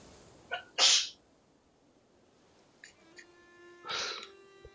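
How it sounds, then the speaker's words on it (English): A woman sneezes once in the background during a Crusader Kings 3 gaming session, a short inhale-catch followed by a sharp burst, then a fainter sneeze-like sound a few seconds later, with no talk. "that was just my girlfriend sneezing in the background"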